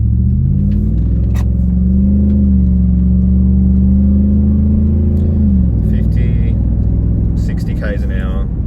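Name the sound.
Y62 Nissan Patrol with Manta cat-back exhaust accelerating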